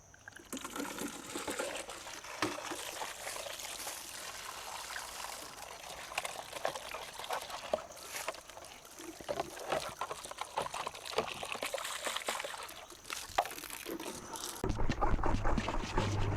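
Water pours and trickles steadily into a discarded soap container being rinsed out, with splashing and sloshing throughout and a louder gush near the end.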